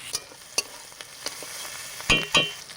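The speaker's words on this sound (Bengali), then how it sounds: "প্রথমে দিয়ে দেবো পেঁয়াজ আর টমেটো কুচি" Chopped onion and tomato fry in oil for a spicy fish curry, a soft sizzle broken by a few sharp spoon scrapes and clinks against the pan, fairly close, with no one talking.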